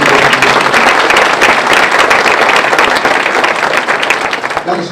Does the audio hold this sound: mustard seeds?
no